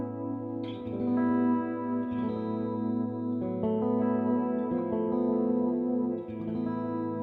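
Sustained electric guitar chords waver and bend in pitch, the whammy bar adding a shimmering, chorus-like warble throughout.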